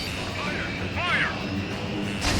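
A missile launches from a fighter jet in the Ace Combat 7 flight game, a short whooshing burst over steady engine drone, with a sharp rising swoop near the middle and a brief hiss at the end.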